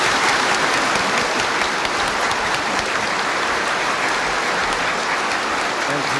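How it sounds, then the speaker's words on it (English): Warm, sustained audience applause at Fudan University in 1984 greets President Reagan before his speech, a dense, even wash of many hands clapping throughout. "Now let us greet Mr. President's speech with a warm applause."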